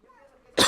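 A man whose work is in a dangerous mine gives one sudden, loud, close cough near the end, after a faint, low murmur.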